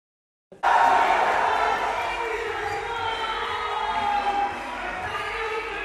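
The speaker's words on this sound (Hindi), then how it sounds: "जोरदार ताली हो जाए। क्या बात है, क्या बात है।" Loud clapping and cheering erupt abruptly from an audience at a large meetup event after a brief silence, forming a dense continuous roar that eases a little toward the end, with voices mixed in.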